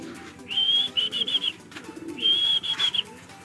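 Racing pigeons at the loft during a race, two clear cooing calls close by, each a drawn-out note breaking into a few pulses, over low background noise.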